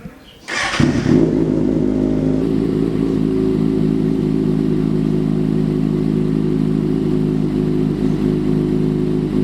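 Kawasaki ZX6R sport motorcycle engine starting with a brief cranking burst, then settling into a steady, loud, close idle with a low throbbing hum for the rest of the clip, no talking.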